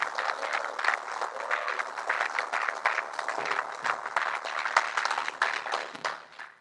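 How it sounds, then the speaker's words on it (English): An audience inside a prison claps steadily for several seconds, a dense wash of applause that holds level before tapering off at the end. "Let's give him a round of applause."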